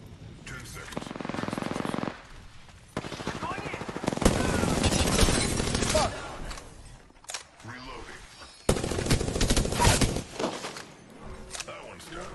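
Gunfire in the Apex Legends video game: loud, close bursts of rapid automatic shots in several separate volleys, with players talking in between.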